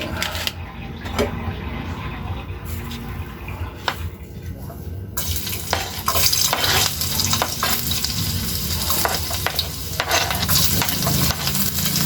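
Chopped garlic sizzles in hot oil in a pan for Filipino ginisang monggo, a loud crackling fry with scraping stirs and brief clicks and taps, growing busier and denser partway through.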